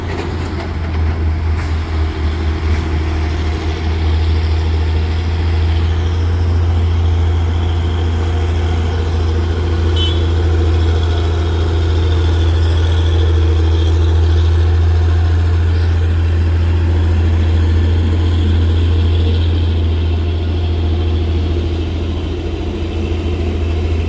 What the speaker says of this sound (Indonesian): Ada truk sawit.